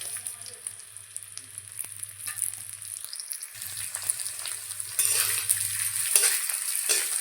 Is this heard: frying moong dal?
yes